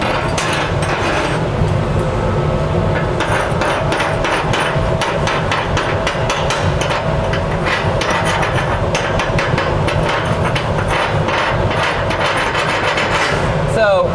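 A chipping hammer repeatedly raps slag off a fresh arc weld on steel, dense close metallic taps in a fast irregular rhythm, loud and continuous throughout.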